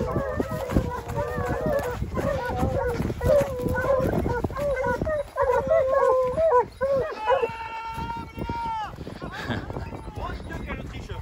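A pack of hunting hounds baying and howling during a hunt with running dogs, overlapping drawn-out cries close by and continuing throughout, with brief rustling and movement.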